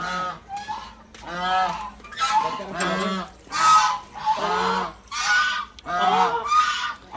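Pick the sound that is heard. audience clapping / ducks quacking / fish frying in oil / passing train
ducks quacking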